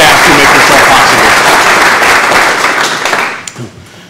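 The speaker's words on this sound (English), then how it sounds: "please give a round of applause again to all of those committee members and Grow Wabash County staff" An audience at a farm family of the year award event gives loud, sustained applause for committee members and staff; the clapping tapers off near the end into a few last claps and thuds.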